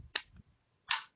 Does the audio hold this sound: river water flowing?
no